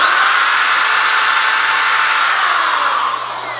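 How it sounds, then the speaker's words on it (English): A power drill bores a hole through a powder horn with a loud, steady high-pitched whine that holds for several seconds and eases slightly at the end, no talking. "I'm drilling a hole."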